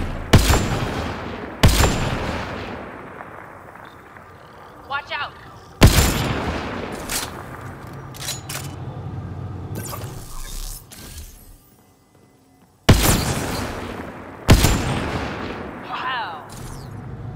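Gunfire in the video game Mass Effect: Andromeda, with loud, sharp shots arriving in spaced bursts and echoing tails between them. Some game sounds and brief quiet gaps fall between the shots.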